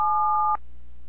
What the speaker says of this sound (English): Now he proves he hit the 6 key. Listen to the tones.